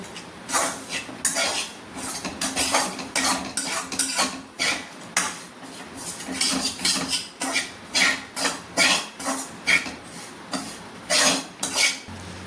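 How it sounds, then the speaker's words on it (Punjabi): A maida barfi mixture is stirred in a pan: a spoon scrapes and knocks against the metal in a steady, close rhythm of repeated strokes, with no talking. "ਹੁਣ ਆਪਾਂ ਇਹਨੂੰ ਚੰਗੀ ਤਰ੍ਹਾਂ ਇਹਦੇ ਮਿਕਸ ਕਰ ਲਵਾਂਗੇ"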